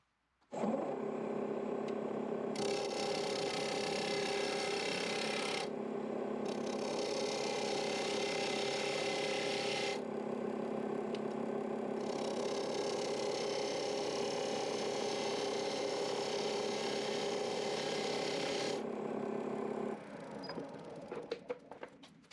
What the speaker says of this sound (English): I'll be turning at 1000 RPM with a 3/8 inch bowl gouge.